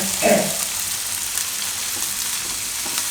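Tomatoes and broccoli cook in a pan with a steady, even sizzle throughout and a brief scrape of stirring near the start.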